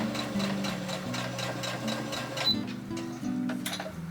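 A sewing machine stitches minky fabric scraps into a patchwork piece, a close, rhythmic mechanical clatter of steady needle strokes that pauses briefly and then starts again.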